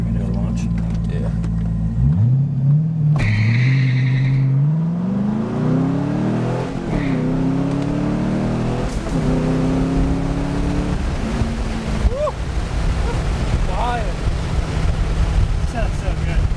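A C5 Corvette exhaust revs and crackles through a launch, rising engine tones sweeping upward amid wind rush and outdoor noise, with people talking over it.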